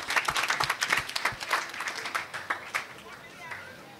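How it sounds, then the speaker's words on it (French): The audience at an eloquence competition final claps for the sponsor, a burst of distinct claps that starts brisk and thins out, fading toward the end. "que je vous demande d'applaudir très fort"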